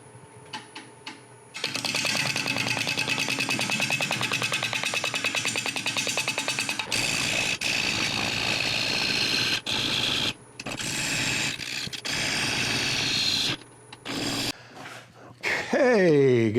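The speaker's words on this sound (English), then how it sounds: "Let's start with bowl gouge here." A bowl gouge cuts wood spinning on a lathe at about 600 rpm, giving a long, steady scraping rasp with a fast rhythmic chatter, then choppier bursts as the cut starts and stops near the end.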